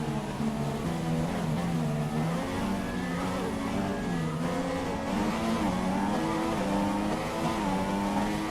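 A Formula One car engine in the racing game F1 2016, a sustained high droning whine rising and falling through gear changes, constant and close with no pauses.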